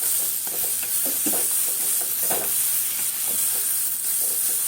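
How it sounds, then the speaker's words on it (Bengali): Pointed gourd mash with roasted cumin being stirred in a hot pan, giving a steady sizzle under repeated scraping strokes of the spatula, close and continuous with no voices. "দেখো এইভাবে না নাড়লে নিচে নিচে লেগে যায়।"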